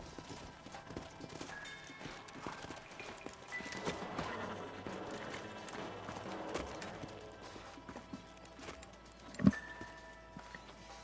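Horses in the Western game Red Dead Redemption walk with steady clip-clop hooves on the ground, fairly close, with a short whinny and game ambience around them.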